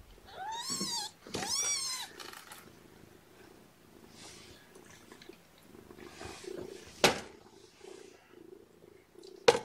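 A mother cat purrs softly and continuously nearby with her kittens, broken by a couple of high kitten mews at the start and a few faint rustles.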